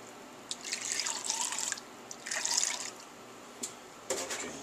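2% milk and half and half poured into a cooking pot, giving soft, faint splashing trickles in three short pours with a quiet background.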